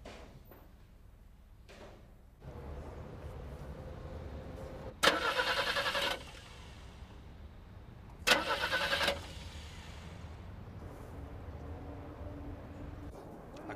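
A car's starter cranks twice without the engine catching: two loud, roughly one-second grinding bursts separated by a quiet pause, with no voices.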